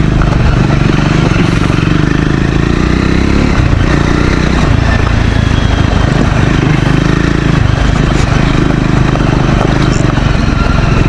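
Triumph Scrambler 400 XC motorcycle riding off road, its engine droning loud and continuous with rough wind-buffeted rumble throughout, no clear speech.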